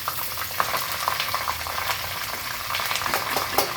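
Steady, dense sizzling of thinly sliced onions frying in hot oil for rava upma, with faint stirring clicks and scrapes throughout.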